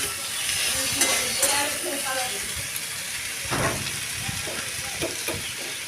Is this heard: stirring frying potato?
yes